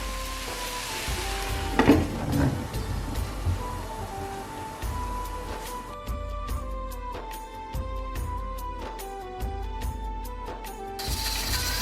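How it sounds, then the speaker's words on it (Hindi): Chicken and vegetables cooking in a pan over a low flame for a chicken roll filling, a steady soft sizzle and frying hiss running throughout with occasional clinks of stirring, no talking. "लो फ्लेम पे इसे तकरीबन 5 मिनट के लिए पकाएंगे ताकि सारी वेजिटेबल्स और चिकन अच्छी तरह कुक हो जाए"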